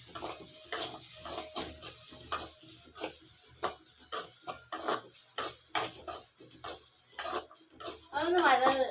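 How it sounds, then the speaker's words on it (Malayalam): Onions sauté in a pan as a spoon stirs them, a rapid series of close metallic scrapes and clinks over a low sizzle, with louder frying crackle near the end. "സവാള എന്നിട്ട് നമുക്ക് ഒരു സ്പൂൺ എടുത്ത് നന്നായിട്ട് വഴറ്റണം കേട്ടോ"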